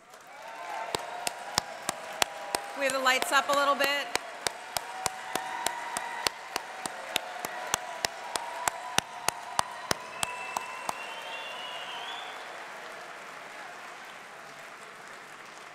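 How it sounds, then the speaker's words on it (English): At the Brooklyn Tech Centennial Homecoming, an audience claps for the class reps with sharp, regular claps over a soft crowd wash that fades toward the end, while someone talks briefly over it. "Class reps, please stand and let's give them a round of applause."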